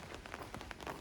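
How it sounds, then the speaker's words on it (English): Rain on a wet Saturday in Shin Koshigaya, Japan: a faint, steady patter of raindrops hitting surfaces, dense and even with soft irregular ticks, heard alone without talking. "raindrops?"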